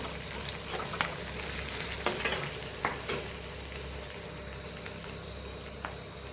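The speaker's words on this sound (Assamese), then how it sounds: "মায়ে মাছ ভাজি থৈছে।" Fish frying in a pan for a local fish curry, a quiet, close, steady sizzle with occasional small pops and spatters throughout.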